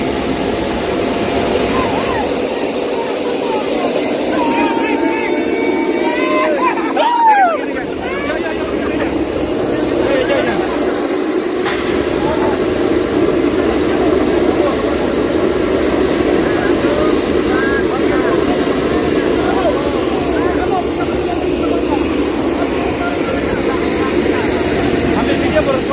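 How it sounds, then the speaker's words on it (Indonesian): A helicopter engine in flight, a steady loud drone and rotor roar that runs unbroken through the whole stretch, close and dominant, with voices talking over it. "Kita naik helikopter sini nih."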